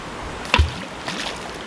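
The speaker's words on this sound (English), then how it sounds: "let's throw some rocks in the river" A rock thrown into a river lands with a single sharp splash, followed by faint rippling water and a softer second splash, over quiet outdoor ambience.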